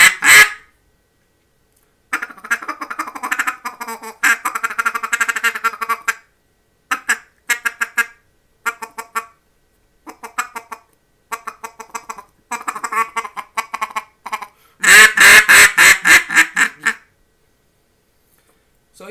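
A Buck Gardner Mallard Magic double reed acrylic duck call is blown in a series of loud, close quacking sequences, rapid bursts separated by short pauses, ending in a fast, intense feeding-style chatter.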